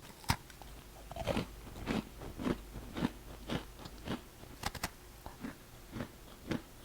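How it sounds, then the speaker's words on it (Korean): Someone bites and chews a soft pepper-flavoured potato snack close to the microphone, giving a steady run of moist crunches and chews roughly every half second with no talking. "감자추만 한 입 더 먹어보고"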